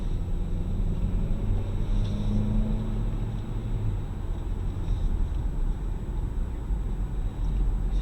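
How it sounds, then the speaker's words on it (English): A 2019 Chevrolet Equinox Premier four-cylinder engine hums steadily at low pitch, a smooth, even rumble with a slight rise in revs midway, no voices present. "it's gonna purr when you give it the gas"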